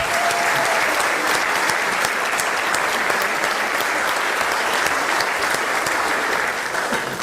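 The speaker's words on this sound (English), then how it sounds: "Let's give her a big round of applause." Sustained applause from a sizable audience, dense and even clapping that holds steady before easing slightly at the end.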